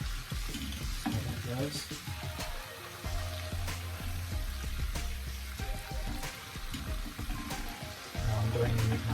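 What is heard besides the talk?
chili flakes frying in a pan for honey butter chicken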